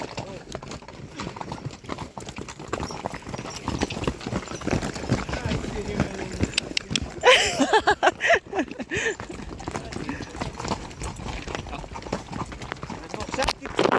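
Horses walk along a spring forest trail at Ben Shemen on a half-day ride, their hooves clip-clopping steadily close by while a riding instructor talks over the hoofbeats.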